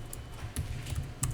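Keys clatter on a computer keyboard during data entry in accounting software, a brief run of quick, close, fairly steady clicks with no voice over them.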